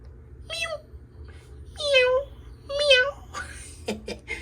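A person's voice imitates a cat, giving three drawn-out meows spaced about a second apart, close and fairly loud over a low background hum, followed by a few brief vocal sounds.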